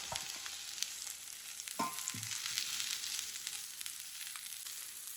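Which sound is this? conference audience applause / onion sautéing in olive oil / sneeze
onion sautéing in olive oil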